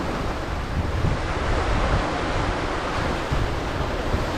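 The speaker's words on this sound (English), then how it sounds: "You can hear the waves, they are coming in" Sea waves roll in on the foreshore of the Bristol Channel at Cardiff, a steady broadband wash of surf mixed with wind noise on the microphone, continuous and fairly loud.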